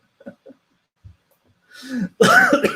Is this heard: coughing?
yes